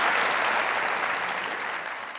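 A studio audience at a comedy talk show claps in a dense, sustained wave of applause that holds steady and fades slightly toward the end.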